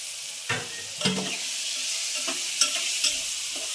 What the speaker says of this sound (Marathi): आता ही चण्याची डाळ टाकू आपण